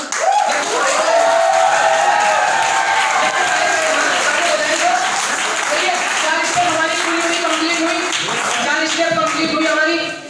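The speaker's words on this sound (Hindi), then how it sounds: "तालियां बजा दो यार" An audience at a business motivational seminar applauds in steady, dense clapping for about ten seconds, with voices and some shuffling mixed underneath.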